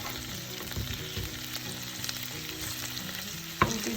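Lamb kabab deep frying in hot oil, a dense continuous sizzle and bubbling, close and steady, with one brief clack near the end and no talk.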